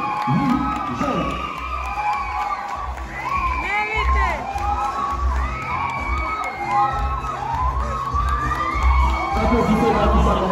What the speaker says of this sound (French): Mesdames et messieurs, applaudissez Richardine Richard.